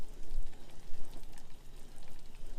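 Gravy is stirred in a pan, giving a soft, steady bubbling and scraping texture that stays close and moderate in volume, with no talk over it.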